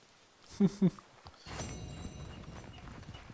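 Horse hooves in Red Dead Redemption 2 give two loud, close clip-clop thuds near the start, followed by a busier stretch of game ambience and low rumble.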